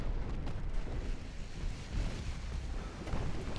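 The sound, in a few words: torpedo launch from destroyer in video game Ultimate Admiral: Dreadnoughts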